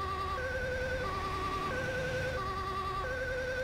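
An ambulance siren in the video game GTA 5 wails in a steady two-tone hi-lo pattern, loud and continuous over engine rumble, with no talk.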